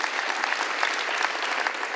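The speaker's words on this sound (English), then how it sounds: "A big round of applause for the risk managers." Dense, steady clapping from a conference audience applauding risk managers at an insurance forum, filling the whole moment without voices.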